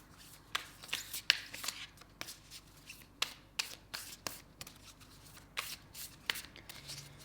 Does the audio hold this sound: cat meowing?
no